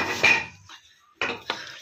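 Panjiri ingredients, including almonds and dried coconut, are stirred in a pot, giving scraping and clinking of a spoon against metal: a busy stretch, a brief lull, then several sharp close knocks.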